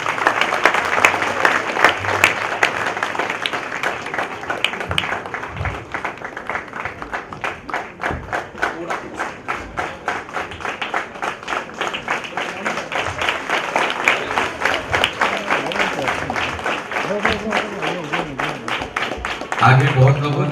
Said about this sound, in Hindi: अल्पेश भाई, तालियां रुकनी नहीं चाहिए आज।